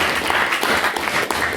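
An audience at a formal debate applauds a speaker, dense sustained clapping from many hands filling the room, loud and close, with no talk over it.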